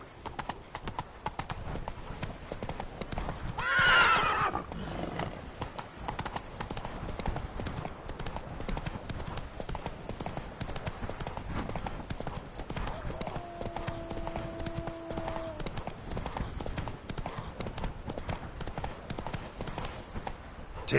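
Hooves of a horse in The Witcher 3 clip-clop in a steady galloping rhythm throughout, with a brief neigh-like burst early on and someone speaking over it at times.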